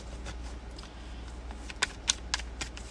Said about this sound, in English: let me shuffle these up some more